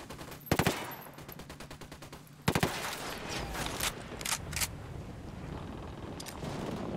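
Gunfire in Ghost Recon as a Team Rainbow squad opens fire in Bolivia: a sharp burst of rapid shots, a second loud volley a couple of seconds later, then scattered single cracks over a steady combat background.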